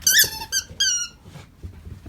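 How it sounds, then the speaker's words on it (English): A dog plays with a soft, very squeaky ball, making three sharp, loud high squeaks in quick succession followed by quieter rustling and thumps of play nearby. "It's a really soft ball and it's like super squeaky."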